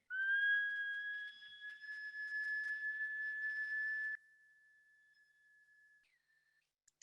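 A water-filled whistle instrument gives a sustained, pure, slightly warbling tone that holds for about four seconds. It then drops to a fainter held note and ends with a brief upward slide, close and with no talk.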